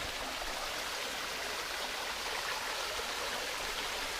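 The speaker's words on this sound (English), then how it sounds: "at the stream that is on the trail heading up to Rocky Mountain, and it is awesome." A mountain stream rushes along a hiking trail, a steady, loud, close wash of flowing water filling the whole stretch with no break and no voices.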